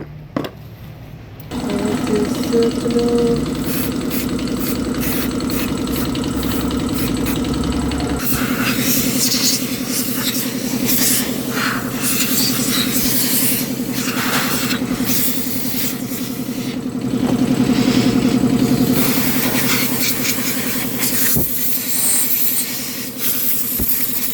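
A 2019 Toyota Fortuner engine runs steadily at close range during EGR valve cleaning, with a constant mid-pitched hum, a hissing spray layered over it and a slight swell in revs toward the end.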